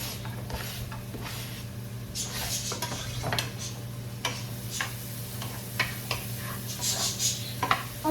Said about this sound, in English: I'm gonna drop in the onions first.